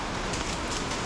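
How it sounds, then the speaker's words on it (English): Steady rain falls on a street in Macau, Rua da Barca da Lenha, a dense, even hiss with no breaks, close and moderately loud. "It's really raining"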